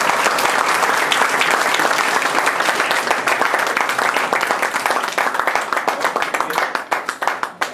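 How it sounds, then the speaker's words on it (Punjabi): Strong, sustained audience applause at a Punjabi literary event, a dense crackle of many clapping hands that holds steady and loosens into scattered individual claps near the end. "ਉਹਦੇ ਵਾਸਤੇ ਪਲੀਜ਼ ਤਾੜੀਆਂ ਜ਼ਰੂਰ ਦਿਓ"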